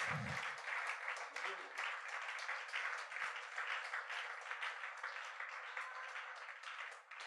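A church congregation at a French-language service applauds loudly, a sustained dense wash of clapping that continues steadily from start to finish, with a few voices and cheers mixed in.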